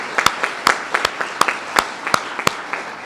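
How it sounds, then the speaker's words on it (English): A small audience at a talk gives sparse applause, a handful of distinct sharp claps spread irregularly over about three seconds, fairly close. "Yes, you can applaud."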